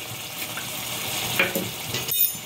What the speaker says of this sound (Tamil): நம்ம கத்திரிக்காயில் கொஞ்சம் உப்பு போட்டு வதக்கியிருக்கோம்